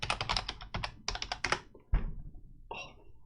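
Bursts of rapid clicking keystrokes on a computer keyboard while a new password is typed, close and crisp, with short gaps between runs of keys and a final few isolated taps.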